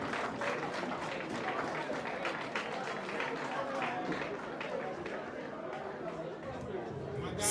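An audience at an independence gala applauds with a dense, steady patter of clapping mixed with crowd chatter, continuous and fairly even throughout.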